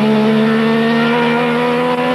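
A 50 PS Trabant rally car engine races at full throttle on a sprint stage of the 1989 Pneumant Rallye Berlin, a loud, steady, buzzing high-revving drone heard close up.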